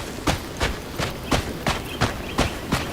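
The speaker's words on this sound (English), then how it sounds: "Can't find much to criticize, aside from those obnoxiously loud footsteps" Heavy footsteps from the video game Crimson Desert, about eight sharp, evenly spaced steps striking close and loud in a steady walking rhythm with no voices.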